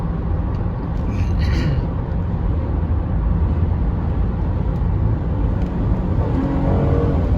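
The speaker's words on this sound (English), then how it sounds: "now that I'm at a higher speed, I floor it and the vehicle will downshift appropriately to the next lower gear available" A 2004 Honda Odyssey EX minivan with a transmission fault accelerating hard and downshifting, heard from inside as a steady, loud low engine and road rumble that holds throughout with no talk.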